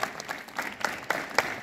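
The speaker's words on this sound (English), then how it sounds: "Clap together." A group of people clapping hands at a school assembly, a loose run of sharp, uneven claps close by, growing a little stronger toward the end.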